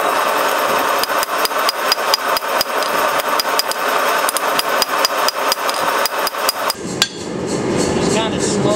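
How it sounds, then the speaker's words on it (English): A power hammer pounds rapidly and steadily on a hot steel billet being forged into feather Damascus, loud and close, with a running engine hum behind it before the blows stop. "Fixing to start the hammer and go to work."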